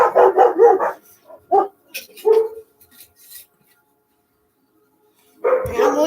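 A dog barks nearby in a few bursts, a rapid cluster of loud barks, then scattered single barks, and another burst at the end after a short silence.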